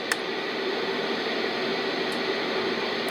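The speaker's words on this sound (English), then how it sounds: "Now brown noise." Brown noise from an AuCuTee S5 sleep machine: steady, dense broadband rushing noise with a deep, roaring low end, continuous and unchanging throughout, with no voices.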